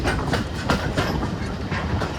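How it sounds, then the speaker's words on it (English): Steam locomotive Sir Nigel Gresley running on the Mid Hants Railway near Alton: a close, loud, continuous rumble of rolling carriages with rhythmic clickety-clack of wheels over rail joints. "This Alton has steam trains."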